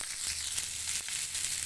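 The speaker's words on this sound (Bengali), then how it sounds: "কচুরমুখীটা 20 সেকেন্ড নাড়িয়ে নেব।" Taro pieces stirred and frying in a pan give a steady, bright sizzle with a soft scrape or two from the stirring, close up and without any talk.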